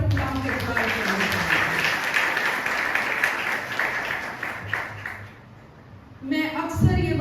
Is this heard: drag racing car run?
no